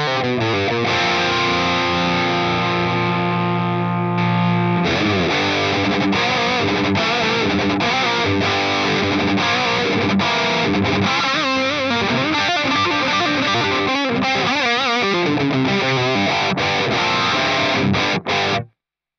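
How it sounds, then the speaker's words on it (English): Electric guitar played through an Axe-Fx Ultra with a super overdrive effect, producing thick, heavily distorted sustained chords followed by a rapid chugging riff, loud and continuous with no talking. "Let's try hit it with a super overdrive."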